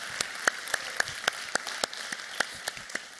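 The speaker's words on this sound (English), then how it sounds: "can we give Darren a great big round of applause?" Scattered, sparse claps from a small audience honoring a leader named Darren, a few distinct hand claps spaced out at uneven intervals, fairly faint and thin rather than a full ovation.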